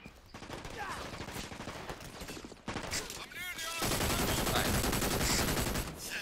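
Video game Brink firefight with rapid automatic gunfire in dense bursts. A short lull is followed by heavier, louder continuous shooting, and a faint voice is mixed in.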